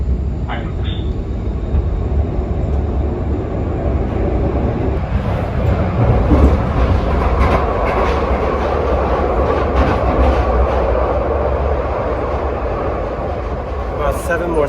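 A Glasgow Subway carriage runs through the tunnel with a loud, continuous rumble, rhythmic wheel clatter and occasional squeals, while people talk in the background.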